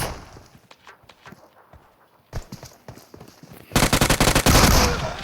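Rapid DBS shotgun fire in a Fortnite-style battle royale game, a dense burst of loud sharp blasts near the end, after scattered thuds and clatter.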